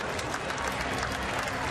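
Spring training baseball crowd at a ballpark gives a steady wash of cheering and applause, loud and continuous through the short stretch.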